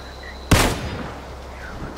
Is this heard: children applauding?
no